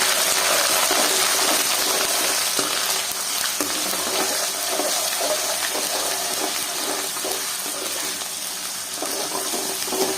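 Ginger garlic paste fries loudly in a hot pan for chicken curry, a dense, continuous sizzle with occasional stirring scrapes, close and steady throughout.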